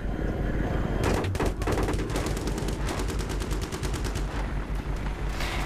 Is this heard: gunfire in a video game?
yes